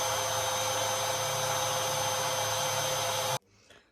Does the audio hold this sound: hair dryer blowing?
yes